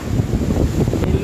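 Super Typhoon Rolly (Goni) wind battering a phone microphone in Naga City amid heavy rain, a continuous rough low roar of buffeting gusts that holds steady throughout with no voices.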